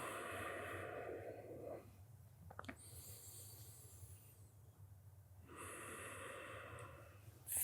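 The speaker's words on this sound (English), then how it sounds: "seal the lips so the breath can move in and out through your nose" Slow, steady breaths drawn in and out through the nose during a yoga practice, long airy exhales alternating with quieter pauses, soft and close with no talking.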